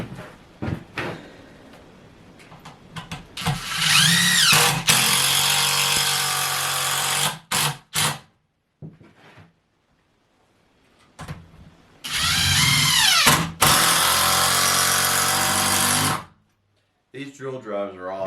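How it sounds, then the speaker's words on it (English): A cordless drill driver drives screws into rough pallet wood, with two long, loud bursts of whirring motor separated by short blips and quiet gaps. "These drill drivers are awesome."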